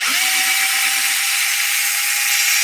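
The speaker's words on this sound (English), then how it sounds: "I'm going to pop this screw out real quick just to double check" A power tool whines steadily at close range while backing a screw out of a Losi Lasernut front differential, a loud continuous motor hum after a quick spin-up, with no talking.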